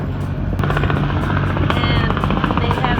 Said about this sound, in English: they have a tourist helicopter that gives you little helicopter rides over here